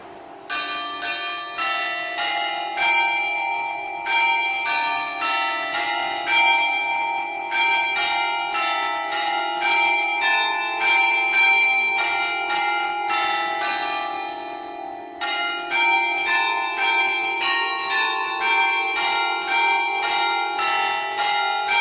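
Church bells ring from a belfry at midday, several bells sounding in a steady, overlapping peal with regular strikes and a long shimmering resonance, loud and continuous with only a brief lull.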